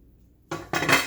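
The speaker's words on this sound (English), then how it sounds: "I'm going to go ahead and put my lid on." A metal lid set onto a pressure canner full of jars of cubed chicken on a burner turned to high: after a moment of silence come two close, sharp metallic clanks and a ringing clatter.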